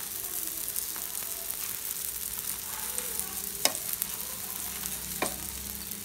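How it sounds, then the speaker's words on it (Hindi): An aloo paratha fries in oil on a hot pan as it is flipped, giving a steady close sizzle with a couple of sharp clicks from the turning. "अब हम इसे दूसरी तरफ से पलटेंगे, इधर से तेल लगा देंगे।"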